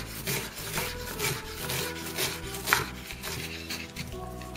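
An onion being finely chopped with a knife on a board for a carrot and celery salad, heard as a steady run of quick, close cutting taps with no talking.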